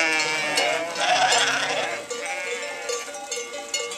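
A large passing flock of goats and sheep on a transhumance drove along a rural Spanish route, a dense, loud chorus of overlapping bleats with cowbell clanks mixed in, steady throughout.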